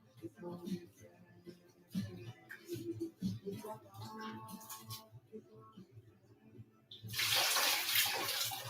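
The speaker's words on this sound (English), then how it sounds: "Wash up my rice. Wash out the starch out, right, you know?" Running water from a tap while rice is rinsed in a kitchen starts as soft splashing and stirring, then swells into a loud steady rush toward the end.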